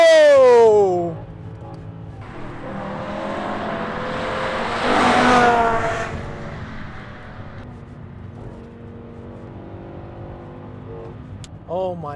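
A BMW M5 V10 engine accelerating hard in full-power P500 mode, a raw, rising howl up close that swells and then settles, with excited voices talking over the drive.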